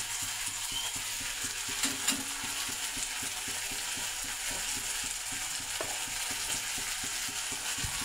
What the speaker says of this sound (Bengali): টমেটোগুলো ভেজে নেব।